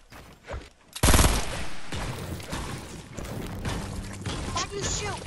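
Gunfire in a Fortnite duos match: a sudden loud burst of rapid shots after a quieter start, continuing as layered game noise with voices talking over it.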